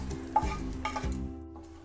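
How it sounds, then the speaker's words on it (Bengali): Chillies frying in a little oil in a frying pan, heard as two quick stirring scrapes over a soft, low sizzle in a short, quiet, close moment without talking. "একটা ফ্রাই প্যান চুলায় দিয়েছি আর অল্প একটু তেল দিয়েছি। আর এই মরিচগুলো আগে ভেজে নিব।"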